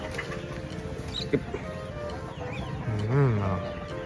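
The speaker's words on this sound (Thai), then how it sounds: "ไหนเรียกไก่สิ" Chickens cluck and call near a rice patch while people coax them over, with a short, rising-and-falling squawk standing out briefly amid ongoing talk.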